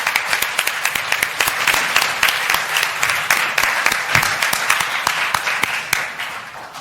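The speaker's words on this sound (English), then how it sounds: "please stand up and clap for me." Sustained, dense applause from a large audience at a speaking event fills the whole stretch, with steady loud clapping and no pauses.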